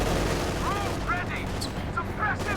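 Machine gun fire from the World War II strategy game Company of Heroes 2 rumbles as a steady, dense barrage under a commentator's voice and scattered in-game callouts.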